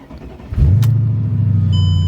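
Mercedes CLK55 AMG engine starting after a new tune and gas pedal: a short crank, then the engine catches and settles into a loud, close, steady idle rumble.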